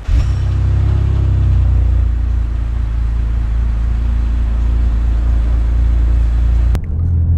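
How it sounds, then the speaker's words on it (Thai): A BMW car engine with a 42/1 header and X-pipe exhaust idles steadily after a morning warm-up, a deep continuous low rumble that stays even and close, then cuts off abruptly near the end. "นี่เราทำให้แบบติดเครื่องแล้ววอร์มเนี่ยเสียงนุ่มนวลเลยไม่งั้นมันดังไปทั้งหมู่บ้านนะ"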